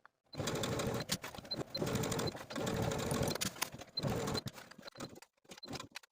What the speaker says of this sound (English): Now I'm going to take this back to the sewing machine and edge stitch